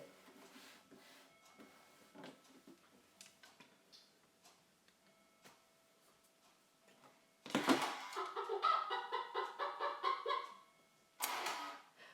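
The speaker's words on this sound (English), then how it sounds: "There's our chicken again." A chicken clucks close by in two bursts near the end, a longer run of busy clucks followed by a short outburst, after a stretch of faint ticking and soft indoor background noise.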